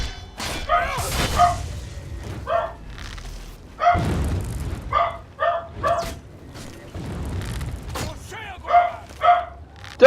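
A dog barks in repeated short bursts, loud and close, with a few yips between them, mixed with a human voice and occasional low thumps.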